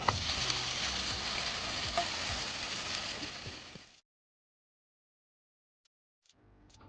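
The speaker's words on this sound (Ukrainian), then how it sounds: "Я дочекалася, поки верх схватиться, і тепер перевертаю в хачапурі." Khachapuri sizzles and fries steadily in a pan for about four seconds, then the sound cuts to silence before faint frying and small clatter return at the end; no one speaks.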